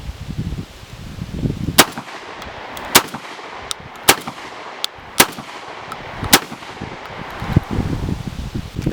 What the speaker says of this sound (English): we're going to test out the target loads versus the buckshot